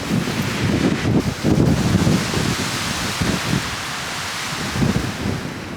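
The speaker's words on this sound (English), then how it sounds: "The wind is blowing the complete opposite direction we need to go." Strong gusts roar and buffet the microphone in heavy rumbling waves, loud and continuous with no voices, outdoors on a camping trip.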